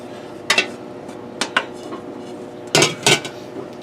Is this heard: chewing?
no